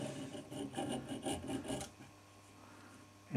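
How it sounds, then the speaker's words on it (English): Hacksaw blade rasping through the frayed ends of plumber's hemp on a pipe thread, a quick series of rough back-and-forth strokes for about two seconds, close up, then quiet hum. "and begin cutting those ends off"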